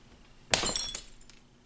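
A pane of glass breaks with one sharp crash, followed by a brief spray of tinkling shards settling, close but fairly quiet, with no voices.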